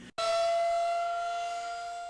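A civil defense tornado siren in Indiana wails in a steady, sustained tone after a brief gap, loud and unbroken for the rest of the clip.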